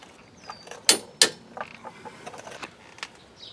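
Torque wrench tightening the strut nuts on a Ford Escape or Mazda Tribute front strut, giving two sharp metallic clicks close together near the middle, with faint creaks and ratcheting noises around them.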